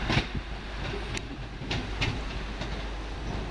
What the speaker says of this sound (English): Got another cross-country super voyager. Looks like it's coming down.